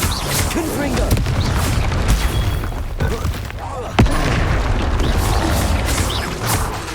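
Repeated blasting spell explosions from the Hogwarts Legacy video game, heavy booms and crashing impacts rolling continuously under a dense, loud mix with a sharp hit midway.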